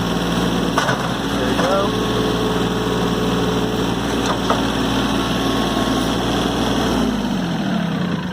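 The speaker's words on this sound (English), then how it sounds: "And now we'll operate the loader." A Mahindra 3016 Shuttle 4WD compact tractor idles steadily while its front loader is worked, with hydraulic whines and short clunks over the constant engine hum; someone briefly speaks.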